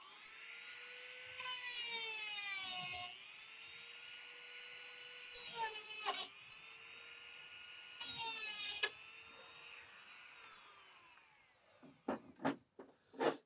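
High-FOC arrow shaft being cut down by a full inch with a power cutting tool: three loud bursts of high whining cutting against a steady motor hum, then the motor spins down and a few sharp knocks follow.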